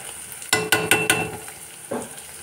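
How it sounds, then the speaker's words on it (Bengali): Food frying in oil in a pan being stirred, with several scraping stirs in quick succession over a steady sizzle, then one more stroke after a pause. "আর একটু এটাকে নাড়াচাড়া।"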